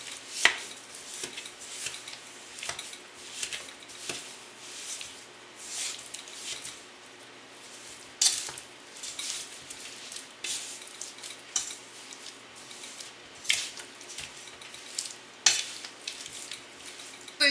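Pumpkin cheesecake bar filling being mixed with a cup and a half of sugar, a steady run of scraping, clinking strokes against a bowl, close and moderately loud, with no talking.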